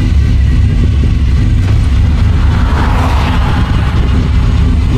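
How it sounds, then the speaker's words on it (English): A Chevy 2500 pickup with a 383 stroker engine and loud mufflers runs close by, a heavy continuous rumble with deep throaty exhaust that swells briefly midway, loud and unbroken. "At least you'll be able to hear the truck start up and everything"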